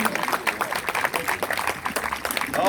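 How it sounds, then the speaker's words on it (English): Audience at a protest applauds a speaker, a steady patter of clapping with talk mixed in throughout. "Let's give him a round of applause"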